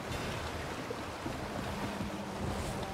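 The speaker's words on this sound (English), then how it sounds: "I can hear water" A steady wash of rushing water and low rumble as water leaks through a hole into a ship in the video game Sea of Thieves, continuous like water pouring in, with a soft wind-like hiss over it.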